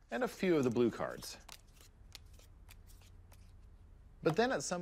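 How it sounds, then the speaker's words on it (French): Two decks of playing cards are shuffled together, giving a quick run of soft, papery ticks and riffling clicks between stretches of a man's speech at the start and end. "On mélange les deux jeux."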